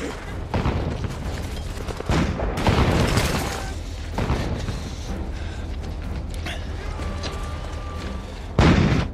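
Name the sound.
tank attack and grenade explosion in a war film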